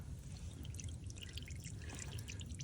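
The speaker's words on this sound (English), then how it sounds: "we'll let this drip as long as we can, and then we'll replace our drain plug" Engine oil trickles and pours steadily out of the drain plug hole of a Can-Am HD7 utility vehicle, a continuous close liquid stream with faint dripping splashes and no talking.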